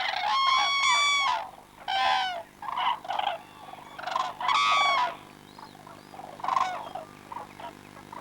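Swans give loud bugling calls, a series of harmonic, trumpeting honks in separate bursts of varying length, heard close and clear against a quiet background.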